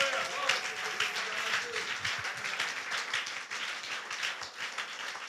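A church congregation applauding and cheering, the clapping dense and continuous and mixed with crowd voices, filling the hall at a fairly low level.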